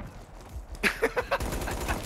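Razorback submachine gun firing in the video game Black Ops 3, a short rapid burst of several distinct shots amid background gunfire.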